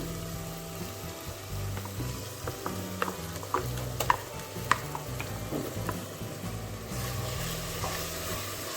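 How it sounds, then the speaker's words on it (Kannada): Freshly ground masala paste sizzles steadily in a pan for dill leaves pulao, with a continuous frying hiss and occasional spatula scrapes and taps over it, close and moderately loud throughout. "ಚೆನ್ನಾಗಿ ಫ್ರೈ ಮಾಡೋಣ ಹಸಿ ವಾಸನೆ ಹೋಗುವವರೆಗೆ"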